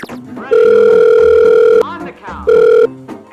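A steady telephone dial tone sounds as a call is placed, in two long held bursts separated by a short gap, loud and close, with faint background noise between them.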